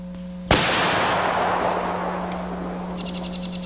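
A Mossberg .410 shotgun fires a single loud, sharp shot that rings out and decays slowly over several seconds, with a steady low hum beneath and faint chirps near the end.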